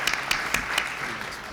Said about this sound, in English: round of applause for Clint Overby, who's back in the back